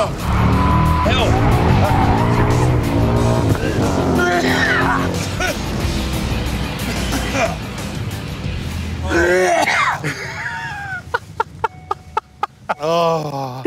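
A Supercars race car engine roars and tires squeal in a skid, followed by clattering impacts and tumbling crashes as it rolls over, with excited voices shouting over the noise.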